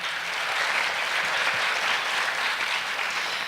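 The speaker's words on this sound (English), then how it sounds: "So a round of applause for them" Sustained, even applause fills a gala hall as an audience claps for literacy ambassadors at a Page Turners event, a thick wash of many hands with no break.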